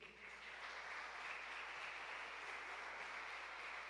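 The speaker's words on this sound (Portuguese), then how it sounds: "Aplauda o Senhor Jesus." A church congregation applauding together, a steady wash of many hands clapping held at an even level from start to finish, fairly quiet and without any voices over it.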